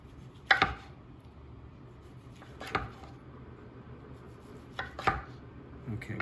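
A knife chops sausage into pieces on a board, with a few sharp, well-spaced strikes over quiet background and no speech.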